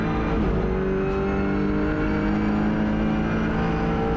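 An Audi RS3 LMS touring race car on track at Bahrain International Circuit, its engine droning loud and close throughout as it brakes and shifts from second to third gear.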